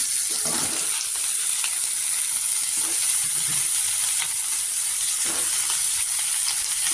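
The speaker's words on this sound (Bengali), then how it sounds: "তেলের মধ্যে মৌরি দিয়ে দিয়েছি, মৌরি দিয়ে আমের চাটনিটা বানাচ্ছি" Fennel seeds frying in hot oil for a mango chutney, giving a steady close sizzle with occasional soft stirring scrapes and no talk.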